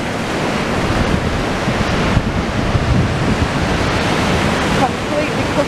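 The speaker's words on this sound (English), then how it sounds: "Let's take a look at these boppy waves." Stormy sea waves crash over a Victorian seawall and the lower promenade as strong wind buffets the microphone, making a loud, continuous roar of surf and gusts with no voices.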